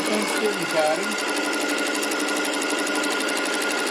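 A sewing machine runs steadily, stitching a circle on fabric for a table runner with the presser foot pressure adjusted for quick sewing. The continuous whirring motor hum sits close and fills the whole stretch, with a brief shift near the start.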